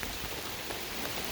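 Heavy rain pouring down on a farm building site, a dense continuous hiss that is steady and enveloping, with no voices over it.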